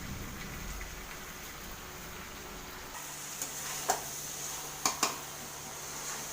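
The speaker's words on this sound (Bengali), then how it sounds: "এদিকে মাংস কষানো হচ্ছে আর এখানে গরম জলটা হচ্ছে।" Mutton being sautéed for kosha in a pan: a steady, quiet sizzle with a few sharp clinks and scrapes of a utensil near the end, no one speaking.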